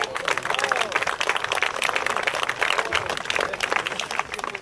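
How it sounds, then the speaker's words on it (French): Audience at a church catechumens' celebration applauding a welcomed bishop, a steady dense wash of clapping from a sizeable crowd throughout, with a voice speaking faintly over it. "on applaudit."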